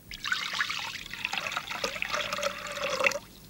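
Water poured into a mixing bowl for baking bread dough, a close, steady trickling and splashing pour lasting about three seconds before tapering off, heard alone without voices.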